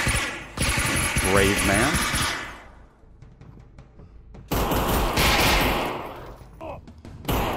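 Rapid bursts of gunfire ring out in a John Wick VR shooting game, loud automatic volleys at the start and again later, with a quieter gap between, while a voice speaks over the shooting.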